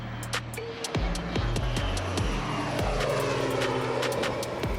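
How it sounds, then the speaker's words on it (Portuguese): Firefighting airplane preparing to drop water over the ground, its engine droning steadily and fairly loud throughout, with low tonal engine hum and broadband rushing noise, no talk. "Esse é o ponto em que o comandante se prepara para despejar a água do avião em solo."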